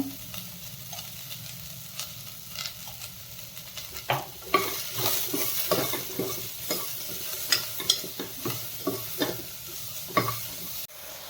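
Sliced onions with salt sizzle in a pan while being stirred briskly, a steady crackle overlaid by repeated sharp scrapes and clicks that grow busier partway through, close by and with no talking.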